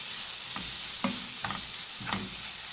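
Chicken breast pieces sear with sliced leeks in a pan, a continuous close sizzle broken by four soft stirring scrapes at even intervals, with no voices.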